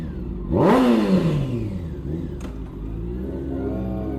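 A motorcycle, a Honda 600F or Yamaha FZ6, is revved once hard and close, the engine note sweeping up sharply and falling back to idle. The bike then settles into a steady idle burble with no talking.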